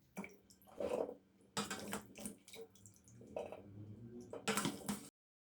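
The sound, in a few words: washed olives drained in a colander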